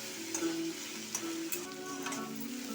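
Onion frying in oil in a pan, a quiet continuous sizzle broken by light stirring scrapes and a few small clicks of the utensil, close and steady, with no talking.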